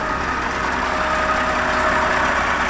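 A KhTA-250 Slobozhanets tractor engine idles close by, a constant low rumble with a rough mechanical chug and no pauses.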